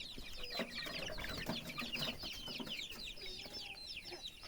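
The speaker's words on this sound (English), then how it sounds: "And small chicken." Small chickens clucking close by in a rural yard, a steady busy chatter of short calls running throughout without pause.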